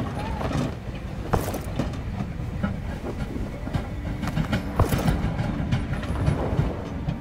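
A train rolls steadily along in the video game Voidtrain, a continuous rumbling, rattling rail noise with occasional clanks, fairly loud and close throughout.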